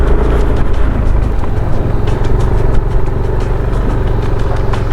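A Yamaha Nmax V2 scooter climbs a steep, muddy stretch of the Capas–Botolan road between Tarlac and Zambales, its engine a loud, close, continuous droning strain with no talk.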